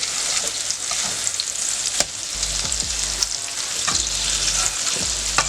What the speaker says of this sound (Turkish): köftelerin bir tarafı kızardı. Diğer taraflarını çeviriyorum arkadaşlar.